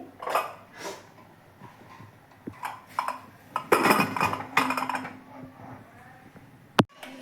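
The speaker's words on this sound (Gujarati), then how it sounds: "બે કુકરનું ઢાંકણ આપણે બંધ કરી દઈએ" Close metallic clanks and scrapes as a pressure cooker lid is fitted and locked over cooked pigeon peas, several knocks ending in one sharp clink.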